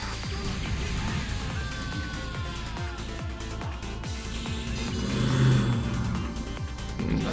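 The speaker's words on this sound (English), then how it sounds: "One mad car outside my house." A car revs outside a house, a mid-pitched engine rising and falling in repeated pulls, fairly close and loud, swelling louder toward the end, with game sounds mixed in and no clear talking.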